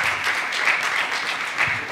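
A brief burst of steady audience applause at a political evening in Zürich's Volkshaus, dense clapping from a crowd with no talking over it.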